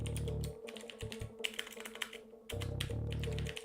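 Rapid clattering keystrokes on a computer keyboard during a coding session, loud and close, in dense bursts separated by brief pauses, over a steady low hum.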